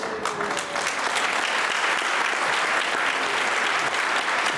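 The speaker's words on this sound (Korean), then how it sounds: "목사님 다시 한번 뜨거운 박수를 한번 부탁드립니다" Audience applause for a preacher at a Korean church spiritual revival gathering, a dense, steady wash of many hands clapping at close range that fills the whole stretch without letting up.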